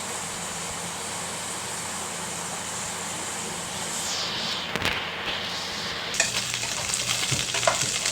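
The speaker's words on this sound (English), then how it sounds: "So I will finish browning the meat and wait for this to cook" Pork meat browns in a pan over a fire with a loud, close, continuous sizzle, broken partway through by stirring scrapes and a brief shift in the hiss.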